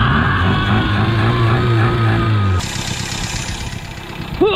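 A Simca 1100 engine, recently troubled by a clogged filter and a stuck carburettor float, runs loud and close with a steady tonal drone, then shifts abruptly into a rougher, rumbling idle.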